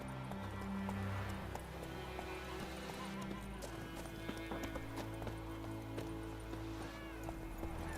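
Hooves of Roach, a horse in The Witcher 3 video game, clip-clop in a steady rhythm across the whole stretch, mixed with game music and ambience, with a brief whinny-like sound.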